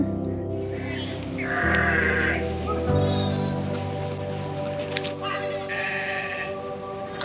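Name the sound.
goat bleating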